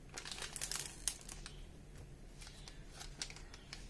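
An A101 Cafex instant filter coffee package being torn open, with close crinkling and crackling of the packet in quick bursts, quiet overall, no talking.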